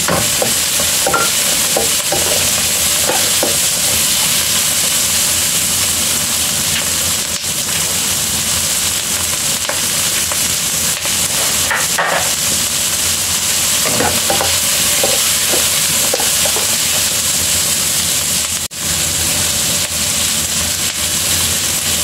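Onion sizzles loudly in a pan for chicken curry, added after ginger and other aromatics. A dense, continuous frying hiss runs throughout, broken by repeated scraping and clacking as the pieces are stirred, with no talking.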